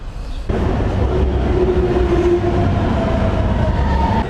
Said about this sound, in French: on est toujours dans le métro